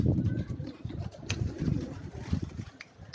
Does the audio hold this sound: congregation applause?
no